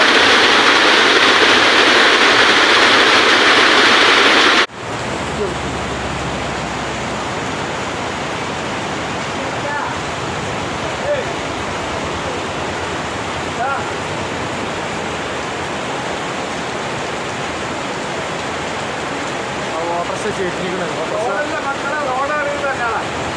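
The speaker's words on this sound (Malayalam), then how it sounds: "അങ്ങനെ നമ്മൾ കാത്തിരുന്ന ആ മഴയും ഇതാ വന്നെത്തി" Heavy rain pours down in a roaring, broadband rush that is loudest at first, then abruptly shifts to a steadier, slightly softer downpour that continues throughout.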